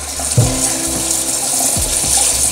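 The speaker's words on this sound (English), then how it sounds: "Just give it a quick rinse" Tap water runs steadily into a sink while an indigo-dyed item is rinsed under it, a close splashing flow with brief surges and gurgles as the item moves through the stream.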